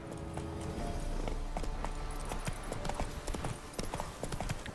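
Roach, Geralt's horse in The Witcher 3, clip-clopping along at a steady pace, close and clear, with soft game ambience underneath.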